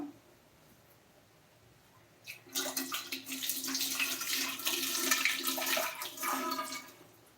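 Tap water gushes steadily for about five seconds as fresh curry leaves are rinsed in a home kitchen, following a quiet start.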